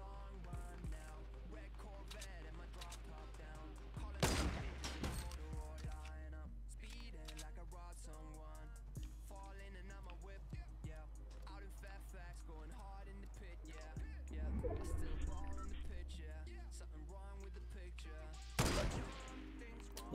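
Gunfire in the video game Fortnite, with three loud sharp shots spaced several seconds apart over a steady backdrop of game music and ambience, plus a brief burst of activity between them.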